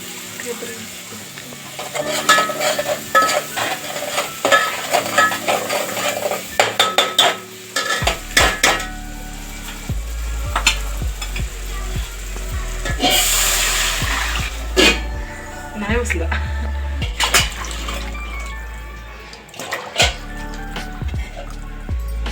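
Lentil katachi amti curry stirred and bubbling in a pot on the stove, with a steady sizzle and repeated scraping, clinking stirs against the metal that come and go over a low simmering hiss.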